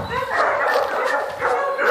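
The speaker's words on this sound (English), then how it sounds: "Yes, you hear the dogs barking." Several dogs bark and yip in short overlapping bursts, fairly close and loud, at a home that keeps puppies, adult dogs and rabbits.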